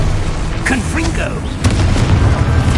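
Confringo fire-blast spell in the Hogwarts video game, cast as a short, whooshing flourish followed by a sharp, booming impact and a rumbling tail, all loud and close.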